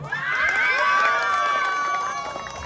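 An audience at a gay pageant in Santa Lucia, Masantol, Pampanga erupts in high-pitched shrieks, whoops and cheers, a loud sustained roar of many voices that tapers off slightly at the end.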